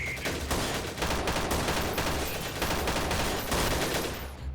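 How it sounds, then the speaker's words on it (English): Sustained automatic gunfire in the military shooter S6 Freeman Guerrilla Warfare, a dense, loud run of rapid shots lasting several seconds before cutting off abruptly. "I was shooting at him and I didn't get any hit markers whatsoever"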